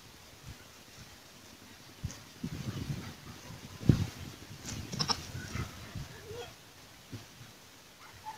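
Nubian goats bleat in a farm setting, several short calls scattered in the middle against light wind and soft background rustle.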